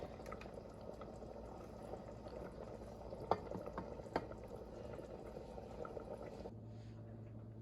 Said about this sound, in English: I'm gonna turn it down, let it simmer for about maybe 20 minutes